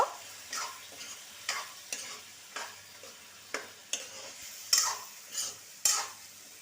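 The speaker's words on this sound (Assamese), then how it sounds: "এনেকৈ লৰাই ল' টু মিডিয়াম ফ্লেমত ভাজি থাকিব।" Goat meat stirred and frying in a pan over a medium flame, with a soft steady sizzle broken by repeated scraping strokes of a spatula at an irregular rhythm, close up and with no voices.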